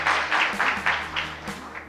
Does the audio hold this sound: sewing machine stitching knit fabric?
no